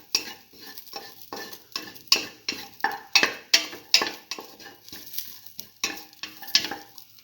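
Vegetables being sautéed in a pan for a black lentil and ash gourd stew, with a spatula scraping and stirring in repeated rhythmic strokes over a soft background sizzle, close up with no talk.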